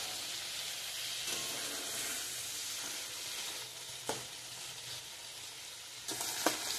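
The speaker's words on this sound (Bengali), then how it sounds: "এখন এগুলো আস্তে আস্তে করে ভাজবো।" Paneer cubes fry in a pan with a steady, close sizzle and hiss. A couple of sharp utensil clicks come near the end, and no one speaks.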